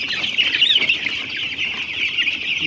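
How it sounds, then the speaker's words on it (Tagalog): A crowd of 12-day-old broiler chicks on a poultry farm peeps continuously, a dense, loud chorus of high chirping close by with no pauses. "ang ating mga sisiw ay mahilig tumambay"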